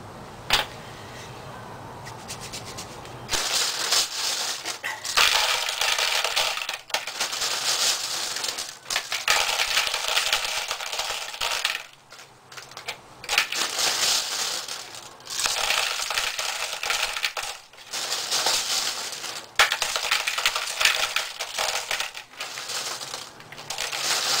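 Hands rubbing sizing die wax into their palms while reloading .223 brass, giving close, loud dry scrubbing bursts of several seconds each, separated by short pauses.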